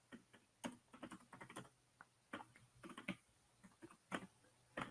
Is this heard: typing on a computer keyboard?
yes